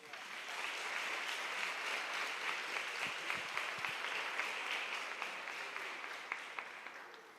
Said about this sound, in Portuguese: Se puder, dar uma oferta de palmas para Jesus.